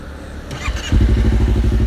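A Honda CBR250RR with a Kea aftermarket exhaust and an MBR Tech module cranks briefly with a mechanical clatter, then fires and settles into a loud, close, even burble.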